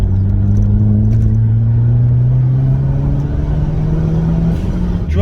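A Nissan Juke NISMO RS engine pulls hard on a test drive, its steady droning note climbing in pitch as it accelerates, loud and continuous, with no one talking.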